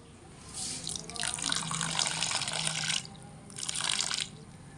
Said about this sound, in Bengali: এবার আমি এর মধ্যে এমন পরিমাণ জল দেব যাতে করে এই গামলায় সাবুর যে লেয়ার ঠিক সেই লেয়ার পর্যন্তই যেন জলটাও থাকে